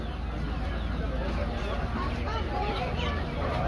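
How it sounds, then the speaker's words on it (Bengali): Native chickens and roosters clucking continuously at Fatullah market, a dense close mix of fowl calls under busy market chatter. "দেখুন প্রচুর দেশি মোরগ এই জায়গায় দেখতেই পাচ্ছেন, প্রচুর দেশি মোরগ।"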